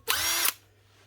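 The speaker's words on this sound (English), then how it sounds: "BPD140 18-volt brushed impactor." An old Makita BPD140 18-volt brushed impact driver with a twin-brush universal motor runs in one short, loud whirring burst close by, then cuts off, with no talk.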